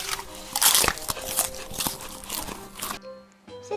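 Crunchy food being bitten and chewed, with repeated crisp crunches and crackles up close, then quieter after a brief pause near the end.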